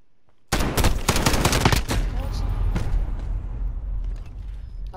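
Automatic rifle fire in Call of Duty Modern Warfare starts abruptly after a brief quiet, a loud sustained burst of rapid shots that blurs into dense clattering and echoing gunfire for the rest of the clip.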